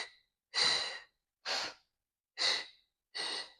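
Four strong, evenly spaced breaths, loud and close, during a Pilates mat leg exercise, each a rushing exhale or inhale with short silences between.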